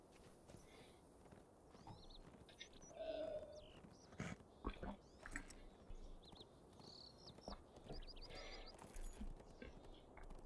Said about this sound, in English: Pretty sure that's where the horses are.